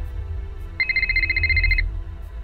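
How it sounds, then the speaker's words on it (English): A phone ringtone trills in the Nancy Drew: The Silent Spy video game as a rapid, steady electronic warble lasting about a second, clear and prominent over a low background hum. "Phone call."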